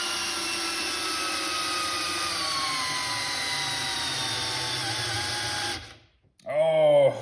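A Milwaukee M12 installation driver runs steadily as it drives a screw, giving a continuous mechanical whir for several seconds. The motor stops abruptly, and after a short pause it gives a brief second burst that rises and falls in pitch.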